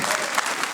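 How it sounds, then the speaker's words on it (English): A short burst of dense audience applause from married people at a clean church comedy show, loud and close with overlapping claps. "Applaud for me again if you're married."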